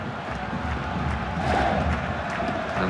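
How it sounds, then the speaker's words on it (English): A stadium crowd roars continuously through a Boca Juniors vs Racing Club match in the FIFA 12 video game, a dense, steady swell of cheering that rises slightly midway. "And the crowd really enjoying it."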